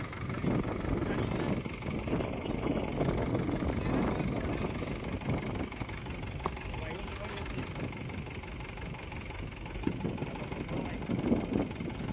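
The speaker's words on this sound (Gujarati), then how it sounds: "અને અત્યારે જાય છે ખાલી કરવા ટ્રેક્ટર" A loaded tractor's engine chugs and idles steadily at mid distance for the whole stretch, with a low rumble and occasional knocks, and muffled voices in the background.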